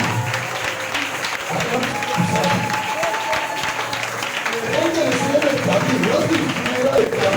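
A church congregation at a French-language worship service claps in a sustained, fairly loud burst while voices carry on over it and through the room.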